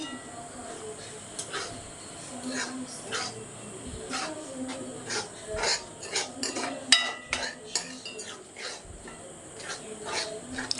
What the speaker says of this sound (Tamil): இப்போ நம்ம லைட்டாக இதை மிக்ஸ் பண்ணி விட்டுருவோம்